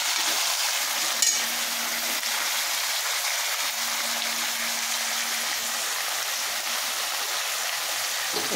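Country chicken sautéing in a pan, a steady loud sizzle and hiss with a brief clatter near the start, continuing unbroken throughout.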